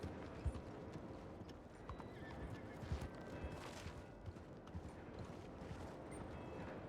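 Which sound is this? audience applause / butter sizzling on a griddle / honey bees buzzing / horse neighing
horse neighing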